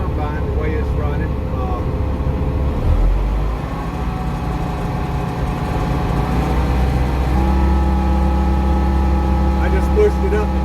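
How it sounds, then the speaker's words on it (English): A combine harvester engine runs steadily at 2,000 RPM, a loud, continuous low drone with a smooth, even hum that never lets up. "I'm delighted with the combine, the way it's running."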